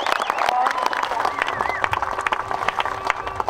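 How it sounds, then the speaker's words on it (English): Crowd applause greets a long-distance swimmer arriving in Mildura at the end of a River Murray swim, sustained clapping mixed with cheers and voices throughout. "I think it's time to give her a big round of applause."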